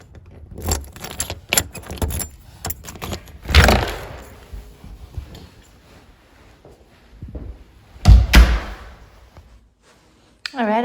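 Keys jangle and a door bangs open and shut at an artist's studio leading to an outdoor workspace, with sharp clattering bursts, scraping handling noise and quieter gaps between them.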